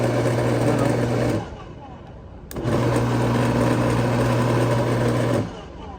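A faulty garden shredder's motor runs with a loud, steady droning hum, cuts out briefly, restarts with a sharp click and drones on again before shutting off.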